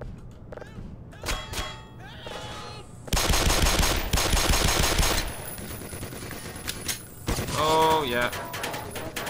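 An automated machine gun fires in the video game Black Mesa, a loud sustained burst of rapid gunfire with metallic clanks, pings and scattered shots around it. Someone speaks briefly.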